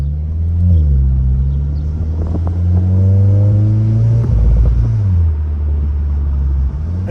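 A hand-controlled Volkswagen GTI with over 300 horsepower pulls hard from inside the cabin, its engine note rising in pitch through a gear, dipping at a shift, then climbing again, loud and steady throughout.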